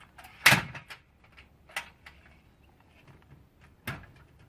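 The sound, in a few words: closing the doors of a wheelie bin storage shed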